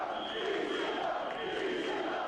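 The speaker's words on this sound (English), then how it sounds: "Crowd's getting into it." A dense, roaring crowd cheers and shouts at an ECW wrestling show, a steady wall of voices filling the whole stretch at constant loudness.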